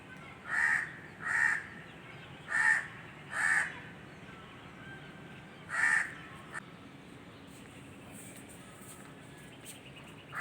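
A crow caws five times in the morning in a rainy-season garden, loud, harsh and fairly close, in evenly spaced bursts over the first six seconds, followed by quiet background ambience.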